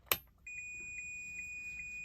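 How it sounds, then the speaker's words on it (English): An ohmmeter continuity beep: a steady high-pitched electronic tone starts after a sharp click and holds continuously, with slight pulses, close and clear against quiet background. "So we hooked it up to the ohms meter. Listen for the beep."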